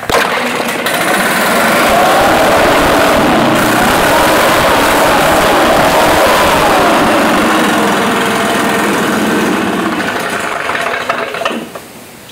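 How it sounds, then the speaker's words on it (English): A Stihl BR550 two-stroke backpack blower fires up and runs loud and close, a steady high-pitched droning whine holding for about ten seconds before the engine sputters and drops away. "This is the BR550."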